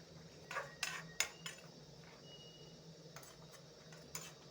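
Utensil scraping and tapping against a pan while egg is mixed with spring onions, a few sharp metallic clinks in an irregular cluster, then two more after a pause, faint against a quiet background.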